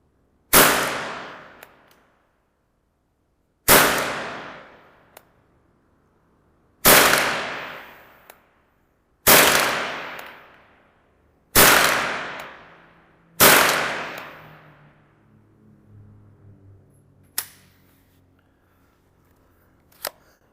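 Six loud, close gunshots from a Remington Nylon 66 polymer .22 rifle, spaced about three seconds apart, each with a decaying ring. Later come quieter mechanical clicks and handling noises.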